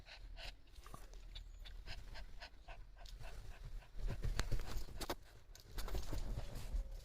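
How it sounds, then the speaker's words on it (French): Two dogs tussle playfully over a toy, with steady panting, snorts and scrabbling paws, growing louder in scuffling bursts throughout without any talk. "Ils sont en train de se battre pour un jouet, les deux zigotos."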